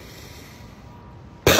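A single loud, harsh cough bursts out at the very end after a stretch of near silence.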